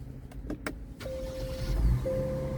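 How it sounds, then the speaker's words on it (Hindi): An electric motor whirs steadily as the power seat and steering wheel of a used Korean car adjust themselves after the door opens, a smooth mechanical hum with a brief pause partway, heard close inside the cabin. "ये सीट और ये एडजस्ट हो गया खुद ही।"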